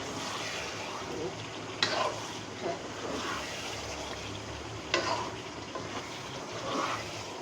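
A utensil stirring and scraping a raw mango dish in a sizzling pan, with a couple of sharp clinks against the metal and a soft frying hiss underneath.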